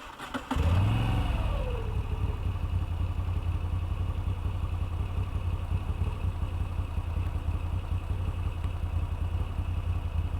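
A 2021 Moto Guzzi V7 Stone 850 engine kicks into a rough, steady idle up close, running continuously with a rattling, uneven throb.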